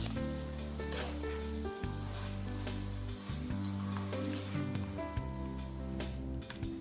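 A tomato, onion, ginger and garlic masala frying in a large pot, a continuous close sizzle with crackling spatter, under a steady low background tone.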